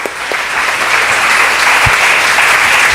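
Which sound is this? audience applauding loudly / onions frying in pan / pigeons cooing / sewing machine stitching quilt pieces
audience applauding loudly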